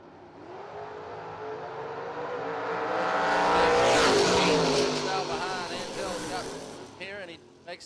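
Oldsmobile Cutlass hot rod, car number 8, launching in a Super Gas drag race: a loud engine roar swells to a peak mid-clip and then fades, with an announcer talking over it throughout.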